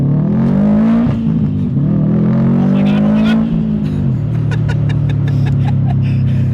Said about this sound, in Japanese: インテークの音がすごい